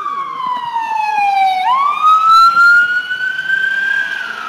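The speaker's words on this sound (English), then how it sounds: "Oh, an ambulance is here now." An ambulance siren wails nearby in Washington, DC, its pitch sliding down then sweeping back up in a long rising tone over steady traffic rumble.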